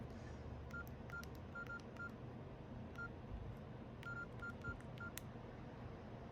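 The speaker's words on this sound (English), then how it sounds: "so dial your number here" Keypad tones from an LG envTouch or Nokia E90 mobile phone sound as a number is dialed. Short, faint beeps come in quick clusters over a quiet room background.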